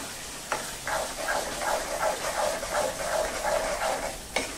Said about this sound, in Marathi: हा मसाला आपण जो घातलेला आहे हा छान याच्यामध्ये तेल सुटेपर्यंत हलवायचा